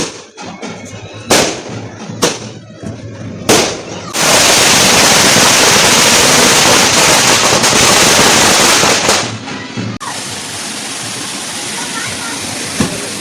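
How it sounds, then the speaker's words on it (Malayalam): Firecrackers burst during a night festival celebration: a few sharp separate bangs open, then a long dense loud crackling barrage roars for several seconds before dropping to a softer continuous crackle. "പിന്നെ ഫുള്ള് പടക്കം പൊട്ടിക്കലായിരുന്നു കേട്ടോ"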